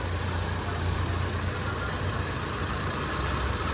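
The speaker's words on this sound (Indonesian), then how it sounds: "Suaranya masih sangat halus di mobil ini" A 2001 Suzuki Katana 4x4 engine idles smoothly and steadily, a low continuous hum with no other sounds.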